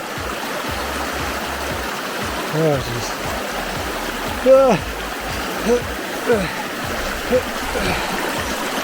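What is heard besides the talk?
stream flowing during a hiking river crossing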